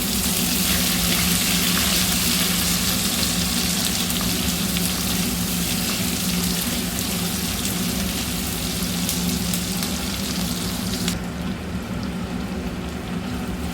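Sliced onions sizzle steadily in oil in a pan while cooking for a capsicum fry, a constant close frying hiss that continues unbroken before briefly quieting near the end.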